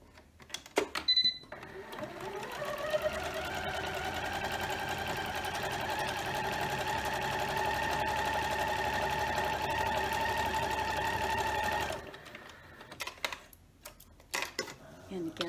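A sewing machine stitches pieced quilt fabric, giving a steady, close, rapid mechanical whir for about ten seconds, bracketed by brief handling clicks and taps.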